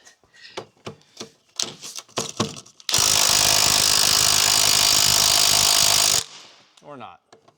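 A power tool loosens the side bolts of a transmission crossmember on a 1999–2004 Jeep Grand Cherokee WJ in a loud, steady rattling burst of about three seconds, preceded by clanking and followed by a brief voice.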